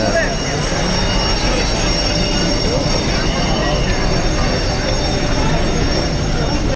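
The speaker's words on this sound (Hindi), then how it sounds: "हजाज की ट्रेन में एंट्री।" A Hajj pilgrims' train running from Arafat to Muzdalifah, heard from inside: a loud, steady rumble of wheels on rail with metallic squealing, voices murmuring faintly underneath throughout.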